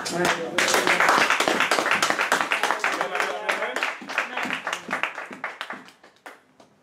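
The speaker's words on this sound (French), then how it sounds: "Nous disons Amen en acclamant très fort notre Dieu" Church congregation clapping loudly and acclaiming God after a prayer, dense hand claps blended with raised voices, fading toward the end.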